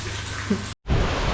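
Heavy monsoon rain at a homestay in Ratnagiri patters across the whole stretch, broken by a brief dropout of silence before the downpour resumes, fairly close and constant.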